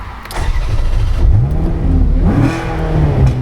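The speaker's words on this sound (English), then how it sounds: "just listen to that V8" Ferrari California V8 bursting into life at close range, then revving loudly in two rising sweeps that fall back to a throaty idle, no voices.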